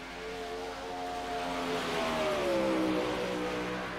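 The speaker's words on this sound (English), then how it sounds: "getting on the loud pedal on the backstretch, coming out of turn number 4 to start his first qualifying lap" A race car accelerates out of turn four onto the backstretch at the start of a qualifying lap, its engine note climbing and then easing with a fairly loud steady roar and no talk.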